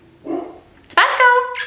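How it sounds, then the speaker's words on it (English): Dogs in a home bark; a short lower bark is followed by a louder, higher yelping bark that carries on for most of a second, close and fairly loud, with no voices. "The dogs are barking."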